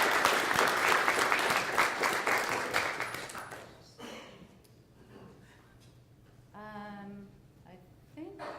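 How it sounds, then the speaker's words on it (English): A board meeting audience applauds at a Dental Board of California session; loud, dense clapping for about four seconds fades into quiet room tone, followed by brief speech. "please join me in showing our appreciation with a round of applause"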